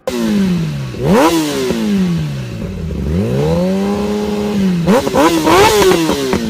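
Kawasaki sport motorcycle engine revving loudly up and down through several throttle blips, rising pitch sweeps with a long sustained rev in the middle, close by and alone.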